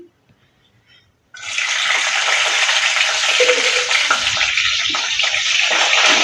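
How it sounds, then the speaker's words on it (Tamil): Fenugreek seeds and garlic frying in hot oil in a kadai for puli kulambu, a sudden loud steady sizzle that bursts in after a second of near silence and holds strong to the end, with no talking. "வெந்தயம் பொரிஞ்சதும் பூண்டு சேர்த்துக்கிறேன்"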